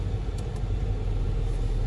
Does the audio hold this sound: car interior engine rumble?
yes